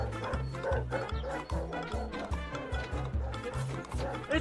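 Several dogs bark in a busy, overlapping run of short woofs against a dense, noisy background, fairly close and continuous.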